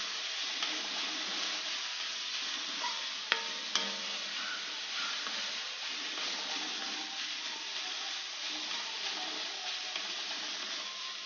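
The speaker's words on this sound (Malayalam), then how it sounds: "ക്യാരറ്റ് കൂടി ചീവിച്ച ക്യാരറ്റ് നല്ലപോലെ ഫ്രൈ ചെയ്യണം" Grated carrot frying in a pan for ABCD halwa, giving a steady soft sizzle with occasional stirring scrapes and a couple of sharp clinks, no talking.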